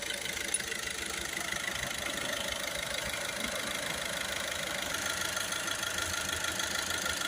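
A VW Touran 1.6 TDI diesel engine with a soot-clogged particulate filter idles steadily with an even mechanical clatter, close by and unchanging throughout, with no talking.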